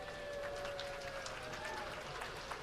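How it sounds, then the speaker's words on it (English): Audience at a Black History Month showcase applauding a singer-songwriter, a soft, distant patter of clapping with a few whoops and voices threaded through, held at a low, even level. "Give him a warm round of applause."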